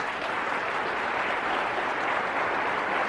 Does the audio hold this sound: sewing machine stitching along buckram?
no